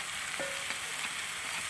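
Tender papaya masala frying in a pan, a soft, even sizzle with a few light scrapes from stirring, quiet and brief with no talk.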